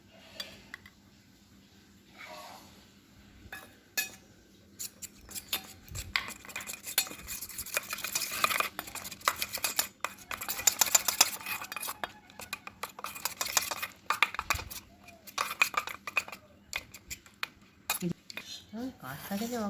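A spoon stirs a turmeric and rose water face pack in a small bowl, making close, irregular scraping and clinking that builds into busier bursts, with someone talking in between.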